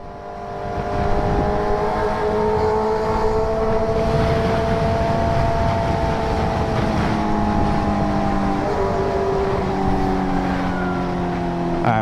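A motorcycle rides along a road while lane splitting, its engine droning loud and close under heavy wind rush, with pitch shifting gradually as the speed changes.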